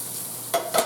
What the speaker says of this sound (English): I'm going to just saute the squash